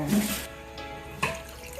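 Water pours from a tap or container into a cooking pot for chicken tinola, a brief hissing splash followed by a quieter trickle and a small clunk, close and alone.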